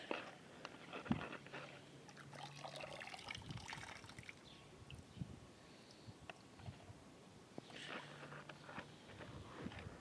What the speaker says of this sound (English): I'll pour water on it.